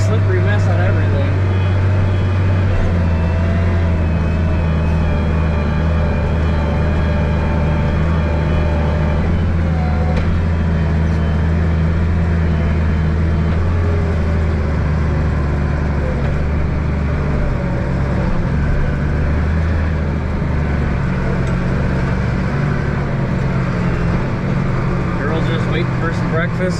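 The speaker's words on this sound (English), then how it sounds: "I actually got to use 4-wheel drive today." A farm truck in four-wheel drive grinds through muddy, slippery ground on the way to a dairy barn, its engine a steady, loud low rumble that runs unbroken throughout.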